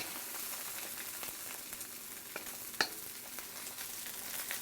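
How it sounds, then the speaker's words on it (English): Egg fries in a wok for salted egg yolk fried rice, giving a steady, quiet sizzle with faint crackles and one brief louder pop, and no talk. "Add a little bit of egg there, let it cook."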